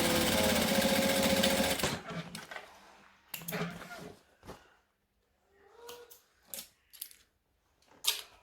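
A sewing machine stitches a vinyl Gypsy Bag, with a loud, steady run of needle chatter for about two seconds, then short stop-start bursts as the fabric is pivoted, while a person talks in between.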